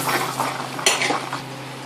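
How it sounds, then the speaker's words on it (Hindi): A spoon clatters briskly against a bowl as eggs are beaten, a dense run of close metallic scrapes and taps with one sharper knock midway. "अंडे को अच्छे से फेंट लेंगे हम लोग"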